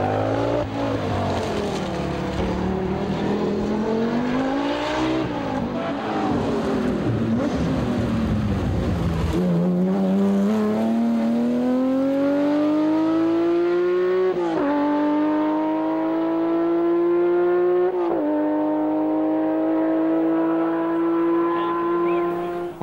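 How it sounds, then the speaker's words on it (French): A rally car, one of Audi Quattro, BMW M1, Lancia and Renault 5 Turbo entries on the 1984 Tour de France Automobile, drones loudly through a stage, its engine note climbing through gear changes with a few sharp shifts. "Didier Auriol remonte alors à la 7e place, juste derrière l'Audi Quattro de Bernard Darniche et la BMW M1 de Béguin."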